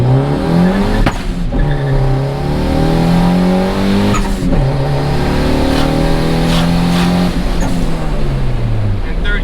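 A turbocharged Honda Accord pulls hard in first gear with a loud, close engine note that climbs in pitch in repeated sweeps, broken by short shift pauses and sharp bursts.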